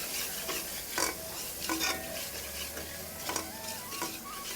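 Nashik-style misal masala fries in a pan under a bubbling sizzle, broken by several sharp, rhythmic scrapes and clacks of a spoon stirring close by.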